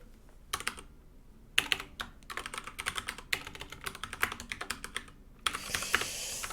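Rapid typing on a computer keyboard, close and clear, comes in dense bursts of clicks with short pauses between them and no voices.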